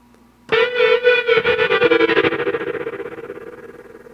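A sample played through an effect on a Roland SP-404SX sampler: a sudden loud tonal burst with stuttering, pulsing repeats that slowly decay and fade over several seconds, alone without speech.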